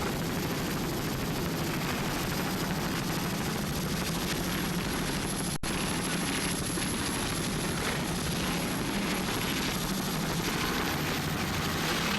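Helicopter flying over an offshore powerboat race at Ocean City, Maryland, a loud, constant rotor chop and engine roar that stays close and steady throughout.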